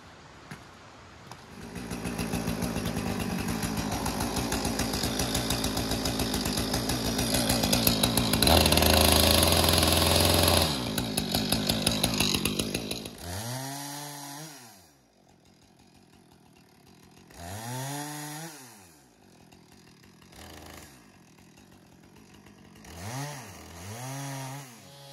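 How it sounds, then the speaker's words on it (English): A portable sawmill's engine runs at a steady, loud buzzing idle and roars higher briefly, then cuts out to a low rumble with several rising and falling revving sweeps, close by. "We got the sawmill warming up."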